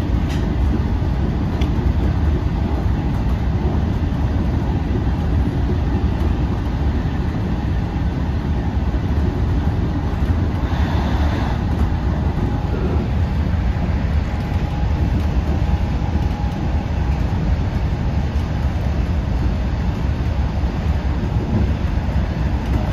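LIRR diesel train running at speed in electrified territory, heard from onboard as a loud, continuous low rumble and roar with steady wheel noise and no voices.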